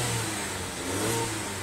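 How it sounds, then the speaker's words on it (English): A petrol car's engine revs up close by in a short, steady burst of mid-pitched roar with no talking. "Revving up."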